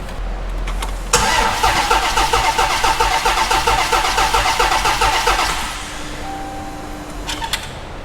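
A supercharged Hellcat engine swapped into a 1968 Dodge Charger cranks on the starter with all fuel injectors unplugged, a steady rhythmic churning for about four and a half seconds that stops, leaving quiet shop hum and a faint tone.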